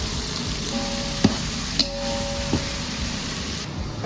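Biryani masala with cinnamon, cloves, cardamom and green chilli frying in oil as its water cooks off, a steady close sizzle with a few sharp stirring clicks and a faint tonal hum, no talking.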